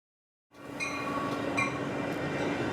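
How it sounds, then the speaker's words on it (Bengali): A train running steadily at speed, used as a sound effect in a ghost audio story, rises out of silence after half a second into a continuous loud rumble with faint metallic clinks and squeals, no voices. "ট্রেন স্পিড ধরেছে"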